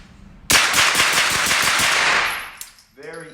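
Rapid string of suppressed 9mm shots from a Sig Sauer MPX, about a dozen fast, evenly spaced reports running together for nearly two seconds, loud and close, then fading out with a short voice afterward.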